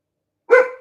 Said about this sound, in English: We've got dogs and an Amazon delivery happening right now,